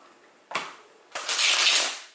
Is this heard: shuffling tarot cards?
yes